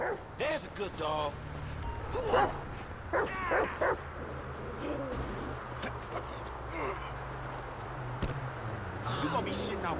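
A dog in GTA 5 barks and yips repeatedly, then whimpers, while character voices talk over it and game ambience runs underneath.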